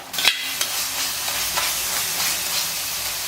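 A spoon scrapes and stirs through masala frying in hot oil, with a steady sizzling hiss and a few sharper clinks.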